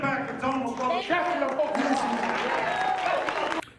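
An audience breaks into a warm round of applause, a dense sustained clapping that stays loud to the end before cutting off abruptly, with voices and cheers mixed in.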